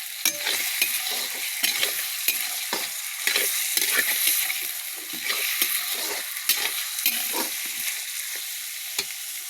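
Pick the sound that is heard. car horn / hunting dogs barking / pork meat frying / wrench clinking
pork meat frying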